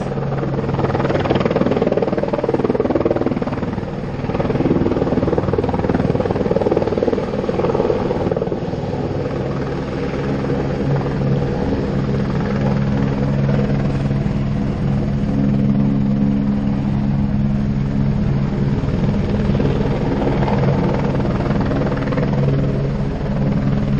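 A helicopter taking off, its rotors and engine roaring continuously and loudly nearby, a steady heavy thrum that holds for the whole stretch.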